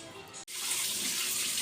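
Water poured into a container holding fish on a balcony, a close, steady rushing splash that starts after a brief cut and runs on loudly.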